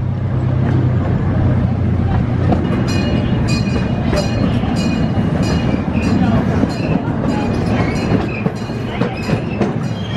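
Steady loud rumble and rattle of a small amusement park train riding along rails through woods at Quassy Amusement Park, with clacking wheels and occasional squeals throughout.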